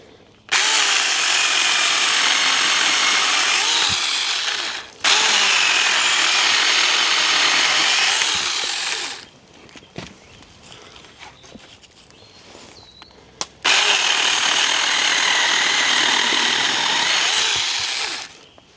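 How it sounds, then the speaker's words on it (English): A SeeSii electric chainsaw cuts through a thick tree trunk about 3.5 to 4 inches across, knot included, in three loud sustained bursts of whining motor and chewing chain, separated by short quieter pauses. "So yeah, the SeeSii electric chainsaw."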